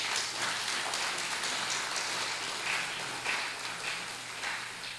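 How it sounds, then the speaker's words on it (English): Audience applause at a general assembly honoring a first Pacific Island woman in the Coast Guard, a steady, distant wash of many hands clapping at low volume with no speech on top. "Have a round of applause for that."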